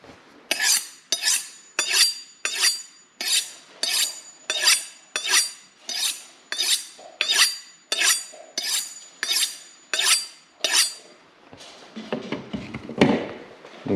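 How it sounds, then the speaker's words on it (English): Knife being sharpened or scraped while preparing bacon: about fifteen evenly spaced, sharp metallic rasping strokes, loud and close. A softer clatter of handled cutlery follows near the end. "we are going to use our mangled knife"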